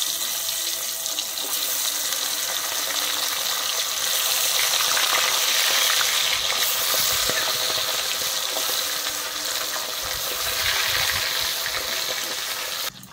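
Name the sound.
parshe fish frying in oil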